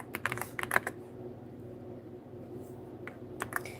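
Quick bursts of computer keyboard typing, with clustered keystrokes near the start and again near the end and a quieter stretch in between, close and fairly soft over a low background hum.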